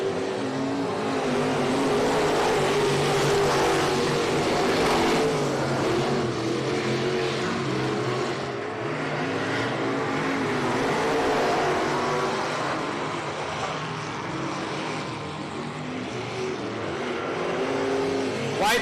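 Race cars lapping the I-37 Speedway oval during a regular race program, with a continuous loud, roaring engine drone that swells and fades slightly as the cars circle the track through turns three and four.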